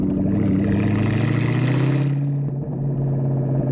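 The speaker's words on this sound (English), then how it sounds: "I love the sound of this car" A 2003 Ford SVT Cobra convertible's supercharged 4.6-litre engine revs loud and close, a rich roaring tone that eases off partway through and then settles into a steady drone.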